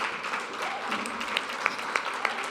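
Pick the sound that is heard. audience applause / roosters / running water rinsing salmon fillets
audience applause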